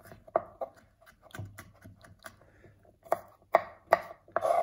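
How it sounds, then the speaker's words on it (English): A knife chops garlic into tiny pieces on a board in a home kitchen, with sharp, irregular taps that pick up into a quicker, louder run of strokes toward the end. "so that's just chopping the garlic up into little tiny pieces"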